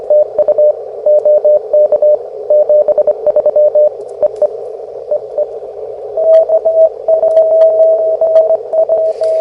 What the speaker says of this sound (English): listening to this many zero beats is miserable and I hate it